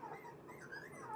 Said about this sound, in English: You can, of course, hear the baby puppies in the background.